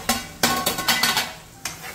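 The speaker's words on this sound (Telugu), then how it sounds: "ఇది మొత్తం లైట్ ఒక బ్రౌన్ కలర్ వచ్చేంత వరకు బాగా ఫ్రై చేసుకోవాలి ఆయిల్లో." Stirring and frying in plenty of hot oil until light brown, with repeated scraping strokes of a utensil in the pan over a steady sizzle, close and fairly loud, no talking.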